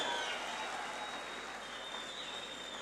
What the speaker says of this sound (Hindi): अपने लिए ताली बजाओ बेटा, सारे के सारे जोर से बजाओ, और जोर से बजाओ